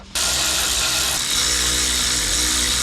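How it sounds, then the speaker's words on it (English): A power tool with a hex bit tightening a bolt during a brake pad and rotor change on a 10th-generation Honda Civic, a loud, close, continuous whirring buzz that starts abruptly and holds steady with a slight rise midway. "The next step is to get your hex bit again and tighten it."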